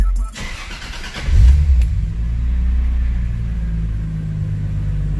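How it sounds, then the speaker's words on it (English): A Lexus GS300 with a 2JZ-GTE VVTi engine and R154 manual gearbox cold-starts after a quiet cabin hum, cranking into a brief loud flare before settling into a deep, steady idle rumble. "let's go ahead and give it a cold start"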